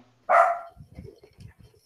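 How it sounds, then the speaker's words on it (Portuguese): Dogs at home burst into a sharp, loud bark as people arrive, then keep up a lower flurry of softer yips and whimpers close by, with no voices. "Aí os cachorros já se alvoroçaram."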